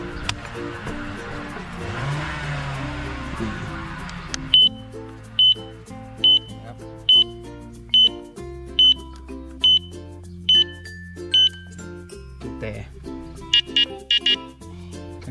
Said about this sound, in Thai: ไฟเลี้ยวนะเดี๋ยวผมจะเปิด เปิดให้ดู